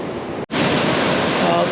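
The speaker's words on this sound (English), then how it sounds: "The tide's definitely coming in" Ocean surf rolling in on a wilderness coast as the tide comes in, a loud broad wash of waves and wind after a brief cut, close to the microphone, with no talking.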